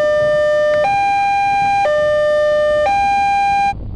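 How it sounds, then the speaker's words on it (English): A high-low siren for inclement weather at the Merom and Ratts site alternates between two pitches, switching roughly once a second across four steady, loud steps before cutting off. "A high-low tone is the sound for inclement weather."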